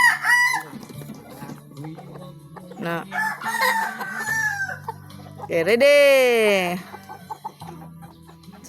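Pet chickens clucking with a rooster crowing loudly nearby in a long drawn-out call, while people talk in a local language over the birds.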